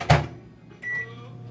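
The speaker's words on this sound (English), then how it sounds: "I'm just going to the microwave because my tiny kitchen doesn't allow the microwave in the kitchen" A microwave oven is used: a sharp door clunk, then a short electronic beep and the start of a low hum, close and fairly loud.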